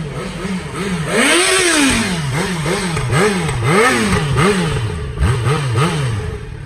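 A motorcycle engine revs hard again and again in a neighbourhood street, with rising and falling pitch sweeps in quick rhythmic bursts. It is loud and close, with no talk over it.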